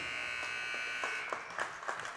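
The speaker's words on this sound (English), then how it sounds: "And at the buzzer" A game-ending buzzer sounds at a boys' varsity basketball game in a gym. It is a steady, loud electric drone lasting the whole moment, with crowd noise and cheers rising around it.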